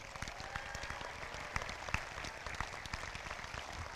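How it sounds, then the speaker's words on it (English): Sustained applause from a large crowd at a high school graduation ceremony, dense clapping that holds steady at a moderate, slightly distant level throughout. "Big round of applause for them"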